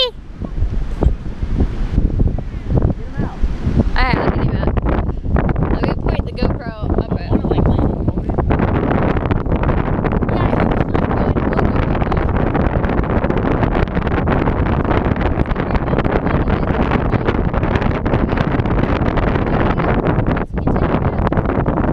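Strong gusty wind roaring steadily into the microphone during outdoor kite flying in high winds, loud and constant throughout while people talk over it at times.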